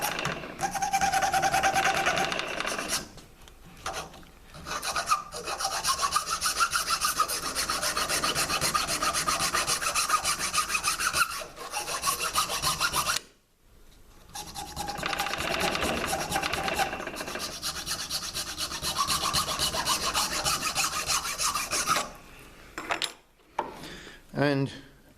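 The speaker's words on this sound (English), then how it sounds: "So we can use the file to go all the way round" A round file rasps around the edge of a drilled hole in a plastic keyring, with repeated scraping strokes in bursts separated by short pauses. The filing is close and fairly loud.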